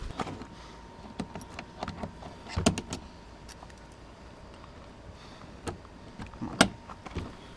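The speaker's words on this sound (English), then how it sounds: "I have to open it from the outside because my door handle is broken" An old truck's door is opened from the outside because the inside handle is broken, giving a few sharp latch clicks and thunks, with a louder clack near the end against quiet background noise.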